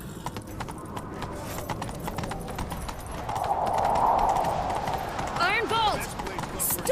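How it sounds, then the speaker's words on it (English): Horses gallop at speed in the video game The Witcher 3, hooves pounding in a rapid continuous clatter, with a brief neigh-like cry and voices over the loud chase. "Grab a horse, we'll chase him down."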